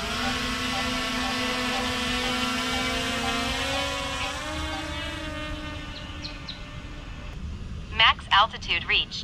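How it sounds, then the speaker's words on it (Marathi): A camera drone flies over a flooded village in Malewad, Sawantwadi, after rain, making a close, steady buzzing whine whose pitch drifts and rises, followed by a few short bursts of sound at the end. "आता ड्रोन फ्लाय करूया"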